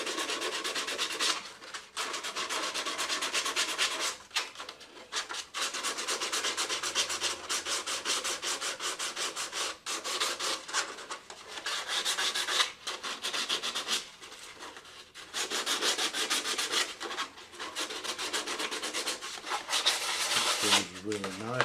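Steady, continuous rasping of sandpaper rubbed by hand across wood, with brief pauses between strokes, close and fairly loud throughout.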